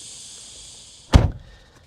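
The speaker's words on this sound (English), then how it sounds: "Alright, so let's shut the door." A single solid thump as the door of a Jeep Avenger EV shuts, heard close from inside the car, over a faint steady hiss of crickets or cicadas outside, then quiet after the slam.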